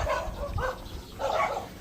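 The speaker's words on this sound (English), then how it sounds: "Now, of course, you're going to get these dogs" Dogs near a house in the Philippines bark loudly in two close bursts of rough, overlapping barks separated by a short pause.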